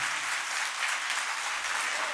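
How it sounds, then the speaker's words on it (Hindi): A crowd applauds loudly and steadily at an annual day celebration, a dense wash of many hands clapping throughout with no pause. "उनका जोरदार तालियों से स्वागत करें सभी का"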